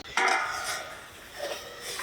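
A metal pot is set upside down over a pan as a cover while an eggless cake bakes on a stove. A single sharp clatter is followed by a softer, brief rattle, close and moderately loud.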